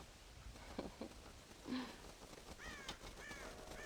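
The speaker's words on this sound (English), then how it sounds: "God damn crows!" Crows cawing in the video game Red Dead Redemption, several faint harsh caws spaced across a few seconds over a quiet background.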